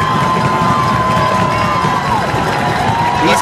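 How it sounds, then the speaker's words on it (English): A high school football crowd at an East Kentwood versus Rockford night game cheers and shouts continuously, a loud dense roar of many voices filling the whole stretch. "East Kentwood crowd is not as big as the Rockford crowd, but they are just as loud tonight"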